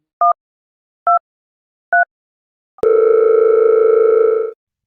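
A telephone places a call with three short two-tone beeps about a second apart. A loud steady tone follows and holds for nearly two seconds before stopping.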